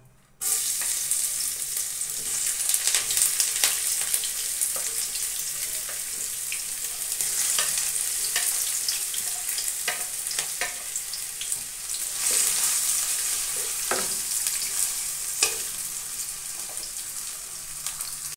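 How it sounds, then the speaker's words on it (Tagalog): Spices and turmeric fry in chicken broth in a pan for pastil with palapa, a steady loud sizzle running throughout with occasional stirring scrapes and clicks, close up, with no voices. "Igisa lang natin mga kakopi yung ating mga pampalasa"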